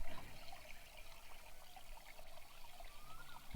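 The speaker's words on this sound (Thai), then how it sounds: "ซึ่งจะตักแล้วก็ตกลงไปนะครับ เหมือนเสียงน้ำตกนะครับ" Water poured from a scoop at a garden cafe falls continuously like a small waterfall, a soft splashing stream close by at a gentle, even level.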